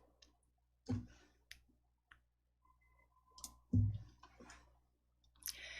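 A computer mouse clicks sparsely and crisply, with a few isolated sharp clicks and two louder thumping clicks, close and quiet between them.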